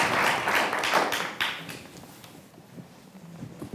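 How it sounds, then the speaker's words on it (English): Audience applause at a conference panel, a burst of clapping that starts loud and then thins out and fades over a few seconds, heard without talk. "let's say a round of applause"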